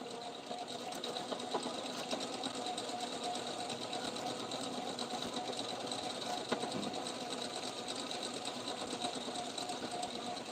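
Braided fishing line being spooled onto a reel by a whirring spooling machine, a steady, continuous mechanical buzz at close range with faint ticking and no talk.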